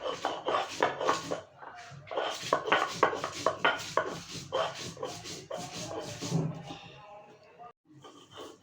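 Dishes and utensils clatter and clink close by in quick, irregular bursts while being washed in a home kitchen during cooking, fading toward the end.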